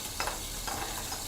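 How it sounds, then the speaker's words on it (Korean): Small yellow croaker fish frying in a covered pan, giving a faint, steady sizzle and crackle with soft bursts of spattering and no talking. "지금 이거 지글지글 소리 들리시나요?"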